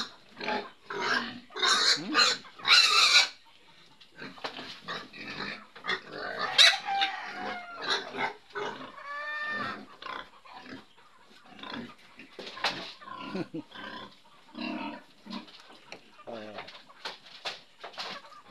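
Pigs grunting and squealing in a backyard pen where chickens pick at the pig feed, heard in uneven bursts alongside bird chatter, with people talking at intervals.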